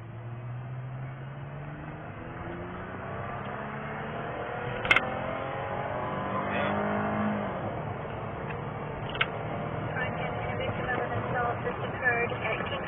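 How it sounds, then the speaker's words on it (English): A truck peels out and accelerates hard, its engine note climbing steadily in pitch, moderately distant and muffled, with a few sharp clicks along the way. "Our truck peeling out here."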